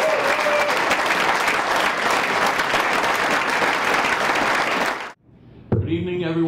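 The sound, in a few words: audience applause for a new state senator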